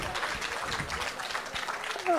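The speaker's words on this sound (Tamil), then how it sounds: "பாய்க்காக ஒரே ஒரு கைத்தட்டல்." An audience claps for a guest on a Tamil talk show, a dense, fairly soft patter of hands that continues throughout, with a voice speaking briefly near the end.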